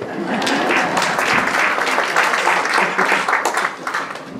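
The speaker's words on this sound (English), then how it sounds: "Go ahead and clap, it's all right." A county candidates night audience claps for a speaker, continuous full applause from a room of people, steady in strength across the whole stretch.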